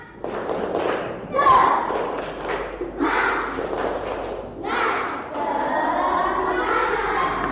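A group of schoolchildren at an Islamic school chant and clap together in a loud rhythmic cheer, with thumping claps and shouted voices throughout.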